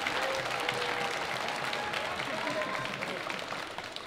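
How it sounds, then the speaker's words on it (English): Audience applause at a 2017 Robert F. Kennedy High School band spring concert, steady dense clapping from a large crowd with some voices mixed in, fairly distant and sustained throughout. "let's go give your audience a round of applause"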